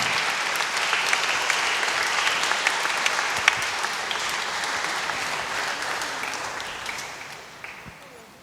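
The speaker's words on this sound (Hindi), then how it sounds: "हम ताली बजा करके नवविवाहितों को शुभकामनाएं दें।" Wedding guests at a church ceremony clap for the newlyweds, a broad sustained round of applause from the gathered crowd that gradually thins and fades toward the end.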